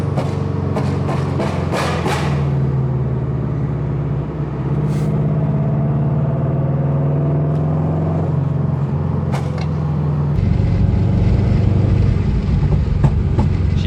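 A Subaru STI with its mufflers removed idles and revs under load as it drives, giving a loud, throaty engine drone that rises and falls, with clicking and a sudden tonal shift near the end.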